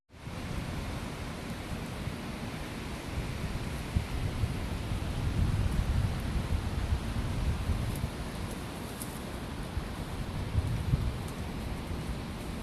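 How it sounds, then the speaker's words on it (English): Steady rain falls in a constant, dense hiss, fairly close, with a few louder patters now and then and no voices. "Rain coming in."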